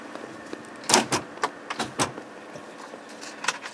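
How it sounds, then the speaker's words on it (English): Power door locks on a 1957 Lincoln Premiere clunk and thump in a short series of sharp mechanical knocks, fairly close, against a quiet cabin hum. "Door locks are up here and they work."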